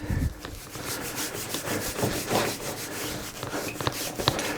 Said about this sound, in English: take your cloth, make a little wad, put on some cream, and just basically rub it in